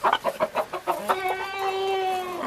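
A rooster and hens cluck close by in a farmyard, a rapid run of short clucks giving way to a sustained, drawn-out crowing call.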